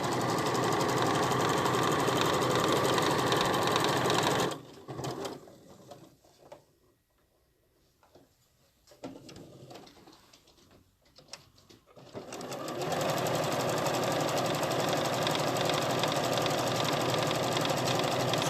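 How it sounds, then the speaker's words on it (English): Sewing machine running in steady mechanical bursts while chain-stitching Liberty fabric rag quilt pieces, loud at first, pausing for several seconds with faint handling noises, then running again continuously. "So I can just keep stitching through all of these"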